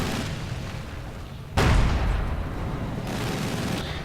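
Mortar fire in the Company of Heroes 2 video game: a rumbling battlefield bed breaks into a sudden heavy boom, then a rolling explosive wash and distant crackling fire, dense and loud, with no speech.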